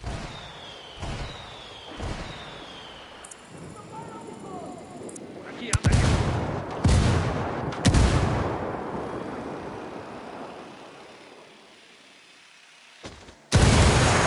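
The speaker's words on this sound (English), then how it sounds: "I called the rebels for some indirect fire" Artillery strikes called in by rebels in Ghost Recon Wildlands land as several heavy booms, spaced a second or so apart and then one more after a lull, with voices talking between the blasts.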